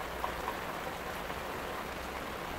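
Steady rain patters on a surface, with faint scattered drips over a constant wash of soft noise.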